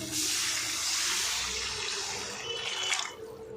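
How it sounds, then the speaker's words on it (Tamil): Water pours steadily in a rushing stream into a cooking pan for a few seconds, then tapers off with a brief splash and trickle. "இப்போ இதில் கூட சேமியா வேகிற அளவுக்கு நம்ம தண்ணி ஆட் பண்ணிக்கலாம்"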